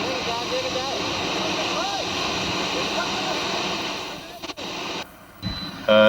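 Rushing water of the Tiktoli waterfall, swollen after heavy rain, roaring as a steady broadband wash that drops out near the end amid a few abrupt bumps.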